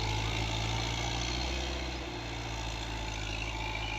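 A Massey tractor engine drones steadily as it tows a New Holland Dabang tractor along a paved road, a continuous mid-low rumble that stays fairly even and moderately distant, with no voices.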